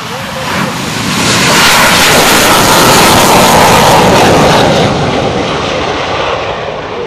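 A loud, roaring F-18 jet engine rushes close by as the jet lands with its tail hook at an air show, a harsh, sustained blast that swells and then slowly eases, with no talk over it.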